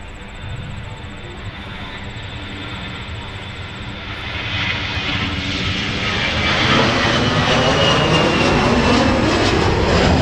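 Jet airliner engines roar steadily on a runway at Minneapolis–Saint Paul airport, a broad rumble that swells louder toward the end as the aircraft powers up or draws nearer.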